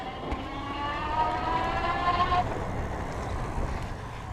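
A geared hub motor on an F4W e-bike at pedal assist level 3 gives a rising, whining electronic hum over rolling road and wind noise, fading out partway while the ride continues.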